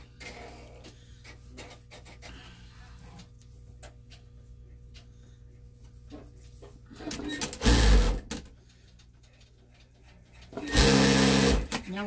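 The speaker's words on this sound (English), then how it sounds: "And we sew it all the way around." A sewing machine stitches around the edge of a fabric Santa bag in two short, loud bursts of rapid mechanical whirring, separated by a quieter stretch of faint handling sounds.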